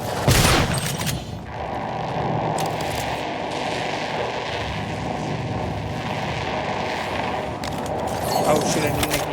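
Shotgun fire in a video game, a loud blast near the start followed by a sustained roar of gunfire and rumbling action under a player's talk.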